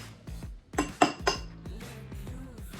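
A fork scrapes and clinks against a bowl while mixing Samyang spicy noodles, making a quick run of metallic taps and knocks, close and fairly quiet, with no talking.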